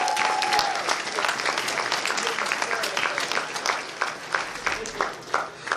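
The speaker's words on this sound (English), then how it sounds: "I would like to give them a round of applause." Audience applauding at the IFC 2024 closing ceremony, a sustained burst of many hands clapping that tapers slightly toward the end, with a voice briefly heard at the start.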